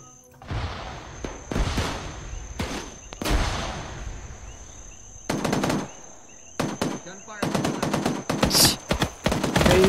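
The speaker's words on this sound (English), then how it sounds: "Gunfire. East of us." Bursts of rapid automatic gunfire in the video game Arma 3 crackle in several volleys, loud and close, with short pauses between them and scattered single shots.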